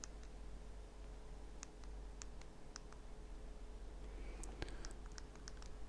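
Soft, irregular button clicks from typing a name on a small handheld device, faint taps spaced out, then a quick cluster near the end over a steady background hum.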